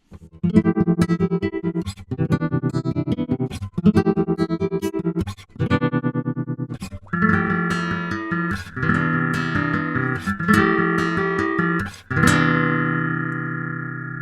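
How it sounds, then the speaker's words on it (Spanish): Synthesizer run through a radical effect that produces dissonant, metallic tones: a series of sustained chords, pulsing and distorted, shifting to a brighter, harsher texture partway through and ending on a ringing chord. "los resultados que se pueden producir con este efecto son bastante radicales o disonantes"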